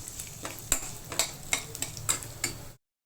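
Mustard seeds, cumin, chana dal, urad dal and two dried red chilies fry in hot oil. A steady crackling sizzle is broken by sharp pops and stirring clicks every half second or so, then it cuts to silence.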